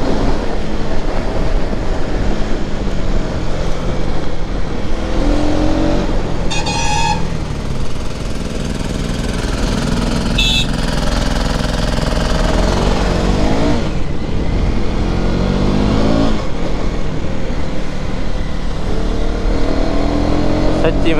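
KTM Duke 250 gen 3 motorcycle ridden at full power, a loud continuous engine roar with shifting pitch as it accelerates and changes gear, blended with rushing wind noise.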